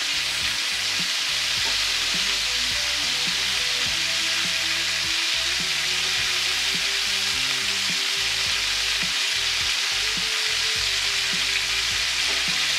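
Shrimp sizzle and crackle continuously in hot oil with onion and green chili, a loud, steady frying hiss with occasional stirring and no voices.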